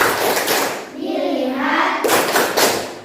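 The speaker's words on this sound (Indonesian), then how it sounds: "Tepuk fokus." Rhythmic group clapping from a classroom 'tepuk fokus' focus-clap ice-breaker, in two bursts at the start and end, with voices chanting and talking in between.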